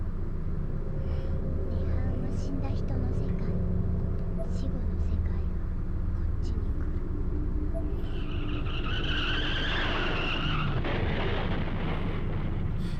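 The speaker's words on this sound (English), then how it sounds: "Then there was an oddly familiar sound. Another car accident, again right outside my door." Video game car crash: engine roar with tires skidding, building to a harsh screech and crash-like burst near the end; a voice speaks faintly beneath.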